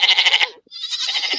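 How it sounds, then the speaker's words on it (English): A sheep or goat bleats loudly several times in a quick wavering run, then falls briefly silent before a second, slightly softer bleat trails on alone. "When you knock off that sheep noise."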